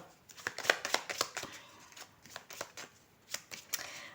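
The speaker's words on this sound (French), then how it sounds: "Je vais prendre les 2 cartes." Tarot cards are handled close up, with a quick run of crisp flicks and snaps followed by softer, spaced slides and taps, quiet and alone.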